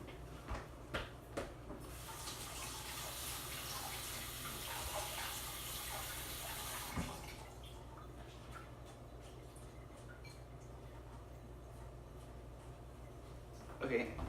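Tap water runs in a steady hiss while fruit is washed underneath, starting after a few clicks and handling knocks, then cutting off and leaving quiet room noise and small movements.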